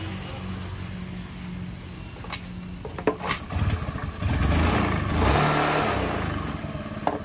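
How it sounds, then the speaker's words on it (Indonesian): A carbureted Honda Beat scooter engine sputters and catches, then revs up with a rising, throaty roar that stays running steadily close by. "Nah ini kita tes dahulu ya guys, motor kita hidupkan."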